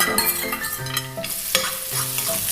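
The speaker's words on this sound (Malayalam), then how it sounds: "അണ്ടിപ്പരിപ്പ് വറുത്ത് കോരി മാറ്റി" Cashews sizzle steadily in hot ghee while a spoon scrapes and stirs the pan in short, repeated strokes, close and fairly loud.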